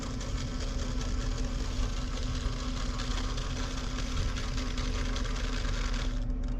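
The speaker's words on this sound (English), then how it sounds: "Once the 12 lead is complete, it will automatically start printing." An ECG monitor automatically prints a 12-lead EKG strip, giving a steady, even mechanical whir with a low hum that runs without a break and ends abruptly near the finish. No one speaks.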